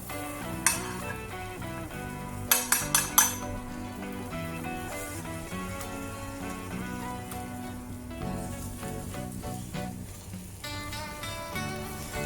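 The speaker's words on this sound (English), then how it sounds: "Tap the pan to move the egg to the side." A few quick metallic taps on a frying pan holding a rolled egg omelette for Japanese omurice, a cluster of four sharp knocks near the start, set against steady background music.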